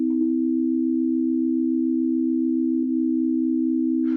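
A steady synthesizer tone holds one pitch as a pure, sustained sine-like note for about four seconds, part of a comparison between equal-temperament and just-intonation intervals, with a slight blip near the end.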